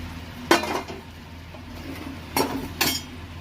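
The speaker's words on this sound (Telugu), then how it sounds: "వేసి ఇలాగ సాస్ అంతా బాగా కలిసేలాగా కలుపుకోవాలి." Fried manchurian balls stirred into sauce in a pan, a spoon clanking against the metal in three sharp strikes with quiet scraping between them, close and alone.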